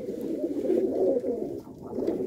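Pigeons kept for hobby flying in Gurdaspur, Punjab, likely Malwai birds, coo in a low, steady, throaty murmur that runs unbroken for about two seconds, fairly close, with no voices.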